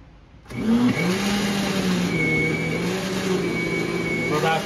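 A blender whirs loudly and steadily at close range, puréeing raw vegetables for gazpacho, its motor pitch settling into a continuous drone after starting up.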